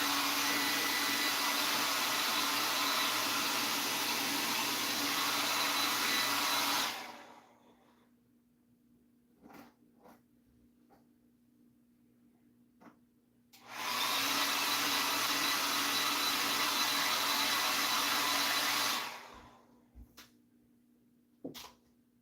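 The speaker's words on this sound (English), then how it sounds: "I'm going to use this blow dryer so we don't sit here for an hour and wait for stuff to dry" A blow dryer drying paint on a Kato UP SD90MAC model locomotive runs loud and steady in two long bursts of several seconds each, with quiet gaps marked by small clicks and handling noises.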